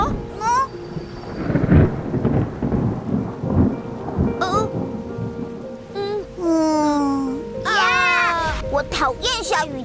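Cartoon thunderstorm for children, with loud rumbling thunder and steady rain, while animated characters talk and sing over it throughout.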